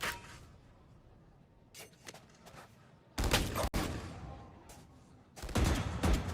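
Gunfire in the tactical shooter Valorant during a Bangkok Masters esports match, with sharp bursts and single shots breaking out in clusters over low game ambience, loud and close at moments.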